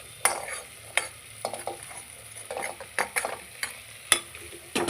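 A spoon stirs soybean chunks in a pan with spices, such as coriander powder, while making pulao. Close scrapes and soft clinks come at irregular intervals over a faint sizzle, with no talking.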